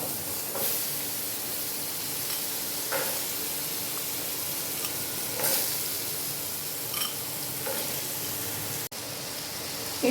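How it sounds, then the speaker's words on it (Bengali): Potatoes fry in a little oil in a kadai (wok) that was just used for frying bhetki fish, giving a steady close sizzle with occasional scrapes and stirring clatters, and no voices. "এবার কড়াইতে তেল দিয়ে দিয়েছি আর একটু। এবার আলুগুলোকে একটু ভেজে নেব।"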